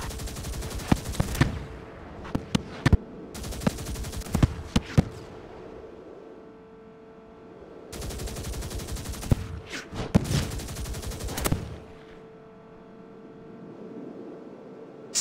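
Forward weapons on a vehicle in Spy Hunter 2 fire at hostile towers in rapid bursts of machine-gun fire, loud clusters of shots separated by quieter stretches of engine hum.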